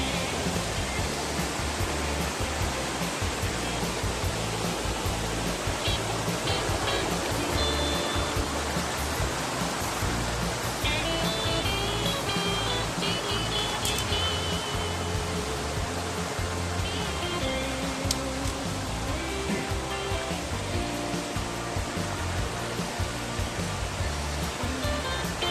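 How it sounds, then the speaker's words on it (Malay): Sungai Seraya waterfall roars as a steady, dense rush of falling water, loud and continuous throughout with faint voices in the background. "Kami sekarang berada di air terjun Sungai Seraya."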